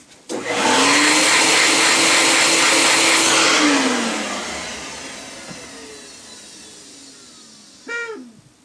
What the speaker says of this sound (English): think my vacuum cleaner's biting the bag